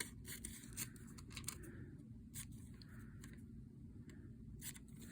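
Scissors snip along the straight edge of a paper craft tag in a run of quiet, crisp cuts, faint against a low background hum.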